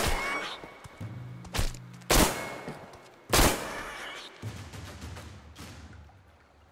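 Gunfire in the post-apocalyptic shooter game Metro Exodus: several sharp, loud shots spaced a second or so apart, each trailing off into a ringing decay, with no talking.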